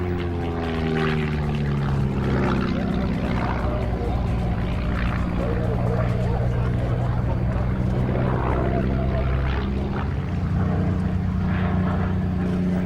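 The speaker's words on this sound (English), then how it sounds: "One of 6 women pilots at the show was Anna Walker in this Booker Jungmann" A Bücker Jungmann biplane displays at the Farnborough air show, its propeller engine droning loudly and continuously with shifting pitch as it passes, while a commentator talks over it throughout.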